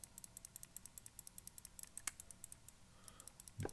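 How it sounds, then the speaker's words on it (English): Quiet, crisp clicks from a Perry.Works IU V2 prototype computer mouse come in fast, even runs, pausing briefly midway and then resuming, with a soft thump at the end. "Mouse clicks, keyboard level."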